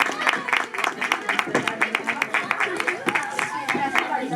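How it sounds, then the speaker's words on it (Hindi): Children applauding at a Christmas drama, a loose, ragged run of claps at an uneven rhythm, close by, with voices talking over and between the claps. "तालियां बच्चों तालियां।"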